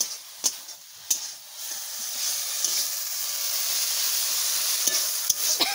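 Dhenki greens frying in a pan, a soft continuous sizzle punctuated by several sharp scrapes and taps of a spatula stirring, close by and without speech.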